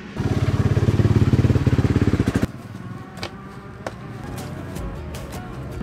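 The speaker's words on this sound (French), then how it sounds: "Là tu mets un coup de démarreur, bon elle démarre, froide ou chaude, elle démarre." An electric starter cranks a motorcycle engine with fast, even chugging pulses for about two seconds. The engine then catches and settles into a rough, uneven idle with occasional clatter.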